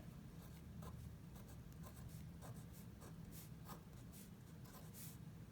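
Quiet pencil strokes scratch on paper in short, irregular bursts, close and soft against a faint background hum.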